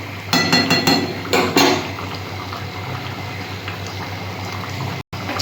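Prawn and yam curry bubbles in a pot on the stove, a steady close simmer, with a few sharp metallic clinks of a spoon or lid near the start.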